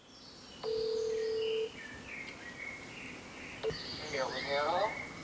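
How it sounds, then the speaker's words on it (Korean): A mobile phone dialing a call: a long steady beep, then a series of short electronic key tones and a warbling ringback-like melody, clear and close with no talking. "어디론가 전화를 거는데요."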